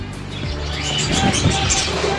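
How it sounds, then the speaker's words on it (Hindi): Small birds chirp and tweet steadily in a crowded bird shop holding partridge chicks and a talking parrot, a dense close chorus of calls with faint background noise. "यहाँ पर आप देख सकते हैं छोटे तीतर के बच्चे भी हैं, ये बोलने वाला तोता भी है।"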